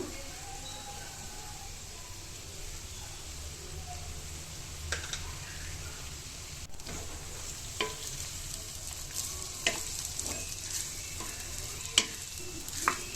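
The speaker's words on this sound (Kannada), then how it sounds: "ಈಗ ರೈಸ್ ಹಾಕ್ಕೊಳ್ತಾ ಇದ್ದೀನಿ ಈಗ ಪೆಪ್ಪರ್ ಪುಡಿ ಹಾಕೊಂಡು ಎಲ್ಲ ಮಿಕ್ಸ್ ಮಾಡ್ಕೋಬೇಕು" Rice being stirred with pepper powder in a pan, a soft steady sizzle with occasional scraping clicks of the spoon against the pan, faint and continuous.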